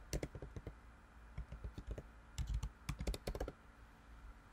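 Rapid clattering keystrokes on a computer keyboard as an email address is entered, in uneven bursts of close, crisp clicks with brief pauses, no voices.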